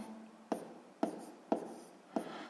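A pen writes on paper during a sixth-grade maths exercise, working out fractions: four close scratching strokes in a steady rhythm, each starting with a sharp contact and trailing off, with no talk.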